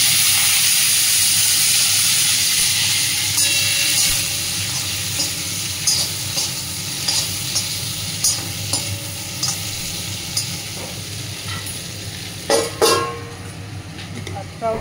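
Diced potatoes fry and sizzle in a pan with garam masala and bay leaf, a steady hiss of oil with occasional stirring clatters and scrapes, close and fairly loud, with light background voices.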